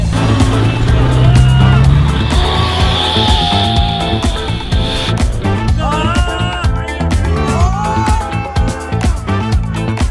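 A car pushes into a large snowdrift, engine revving hard and straining with bursts of wheelspin and tire whine, loud and close, while people talk and shout over it.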